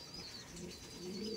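Chennai (Madrasi) tournament pigeons coo softly, a low, faint, continuous murmur with a thin steady whine above it.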